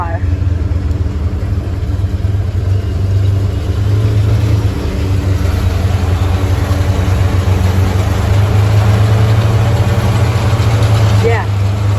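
A small hay bale wrapper hooked to a John Deere 3010 tractor, its engine running at a steady low rumble for the whole stretch with a constant mechanical drone, loud and close.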